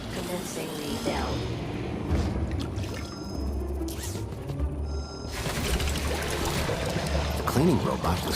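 A water tank refills in the video game Beyond a Steel Sky: steady pouring and trickling water with intermittent mechanical ratcheting clicks, close and continuous over several seconds.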